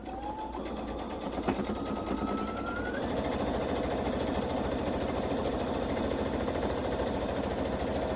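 A sewing machine sews a rag quilt with 2.5 mm stitches, a close, rapid, steady rattling hum that picks up after a brief quieter start and runs on to the end.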